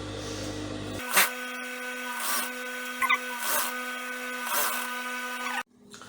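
A sewing machine stitches the sleeve of a paper bag top, giving a steady motor whir with a few brief louder bursts of stitching before it cuts off abruptly.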